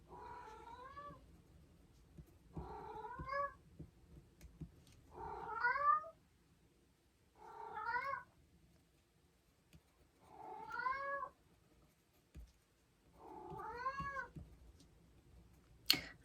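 A house cat meows repeatedly, wanting to be let outside: six drawn-out, wavering calls spaced about two seconds apart, close and fairly clear over a quiet room with faint background hum.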